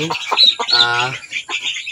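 Startled chicks cluck and chirp loudly in a brooding pen where a duck has wandered in, with someone speaking briefly over the flock.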